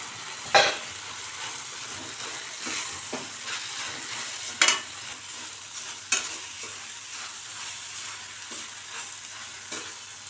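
Long beans with coconut are stir-fried for poriyal in a pan, giving a soft continuous sizzle broken by a few sharp scraping clatters of the spoon against the pan.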